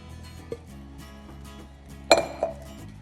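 Bread dough for focaccia goes into a metal baking tray, with a soft knock early and then a sharp metallic clink and a smaller rattle, close and brief over a quiet hum.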